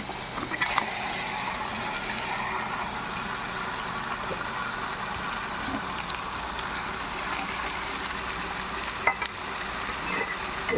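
Chicken marinated in salt and chili powder fries in a pan with a steady, close sizzle that holds through the whole stretch, broken by a few soft stirring clicks and pops.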